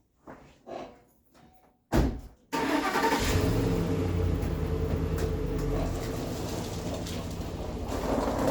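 After a few knocks and a door slam, a truck engine starts up and runs steadily as the vehicle drives and turns around, a loud, continuous rumble close by.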